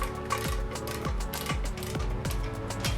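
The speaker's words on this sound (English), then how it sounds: "I've got my smaller torque wrench that kind of does these sort of lower torque numbers" A small torque wrench ratchets against exhaust manifold bolts on a Porsche 928, a close run of quick clicking strokes with brief pauses between pulls, steady and loud with no talking.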